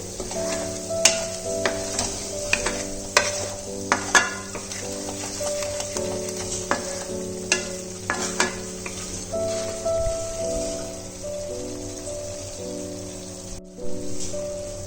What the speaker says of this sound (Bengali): হলুদ আর চিনিটা ভালো করে মিশিয়ে মশলাটার সাথে কষিয়ে নেব।